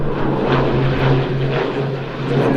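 A Grumman Tracker propeller aircraft flies past at an air display in Jersey. Its engine drones loud and steady with a low propeller hum throughout, and no voices are heard.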